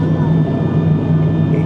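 Loud, steady droning cabin noise inside a Binter propeller airplane on a bumpy flight near Tenerife, with a constant low hum throughout the short moment and no break.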